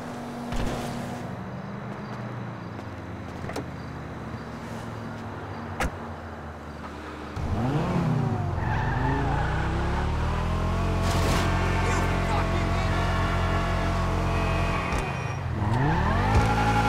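A car in the GTA video game driving up and arriving, its engine revving and rising in pitch, then settling into a steady loud rumble and revving again, close and continuous after a quieter start with a few sharp clicks.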